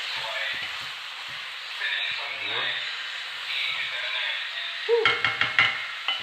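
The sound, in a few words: stirring a pot of ackee and saltfish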